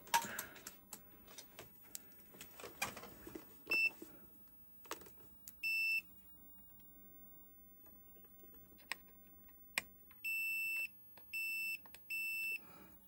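A multimeter tests a Super Nintendo cartridge, giving a short beep and then three clear, steady electronic beeps near the end, over faint ticking, clicking handling noise.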